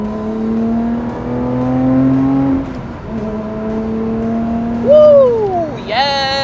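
A 2020 Lotus Evora GT in sport mode accelerates hard, its engine note climbing through steady rising harmonics, dipping at a gearchange, then surging again with a sharp rev flare near the end, loud and close from inside the cabin.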